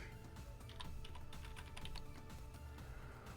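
Steady rapid clicking of computer keyboard keys as HTML code is typed, quiet and continuous with no talking.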